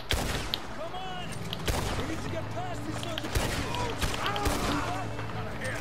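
Gunfire rings out during a shootout in Red Dead Redemption 2, several sharp shots spread across the scene along with other game sounds, and a person talks over the action.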